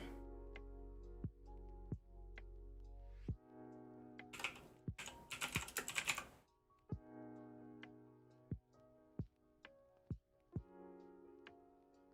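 Computer keyboard keys clicking in scattered bursts, close and fairly quiet, with a brief faster flurry of typing in the middle over a low background hum.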